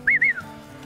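A shepherd's short two-note whistle signalling sheep, sharp and close, rising and falling twice quickly, then fading into a quiet low background.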